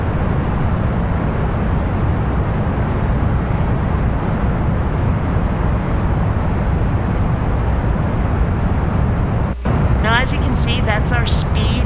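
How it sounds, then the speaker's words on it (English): Steady, loud roar of rocket engine thrust in the video game Kerbal Space Program, a broad rumbling wash lasting throughout, briefly broken near the end by a short electronic chirping sound. "blast off! And we're getting nowhere, so I will crank the throttle up."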